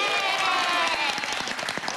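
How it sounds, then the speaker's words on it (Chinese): An audience at a lively group-games show breaks into a burst of hand clapping that is dense at first and then thins into scattered claps, with voices mixed in. "掌声鼓励"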